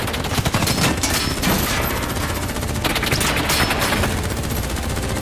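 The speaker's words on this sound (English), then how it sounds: "What the hell? Who's shooting?" Video game gunfire erupts in dense automatic bursts, a loud, continuous fusillade of rapid shots that keeps going for several seconds.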